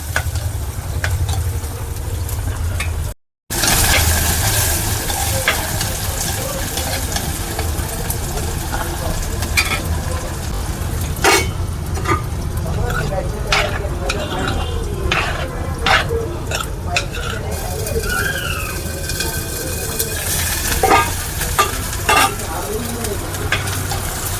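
Steady loud sizzling of shallots, ginger and garlic frying in a hot pan, with occasional stirring clatter and scraping throughout.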